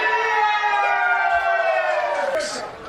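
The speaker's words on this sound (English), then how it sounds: "There's a siren." The siren sounding at the end of a football match, a loud, sustained horn blast with a slight falling pitch that rings over the stadium before dropping away, with crowd noise beneath.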